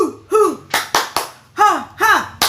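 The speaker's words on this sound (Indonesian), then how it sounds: "Tepuk semangat" Kindergarten children do a rhythmic spirit clap in a classroom, sharp hand claps in a patterned beat mixed with chanted voices and rising shouts, loud and close.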